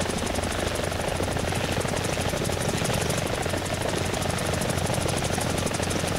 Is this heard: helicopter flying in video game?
yes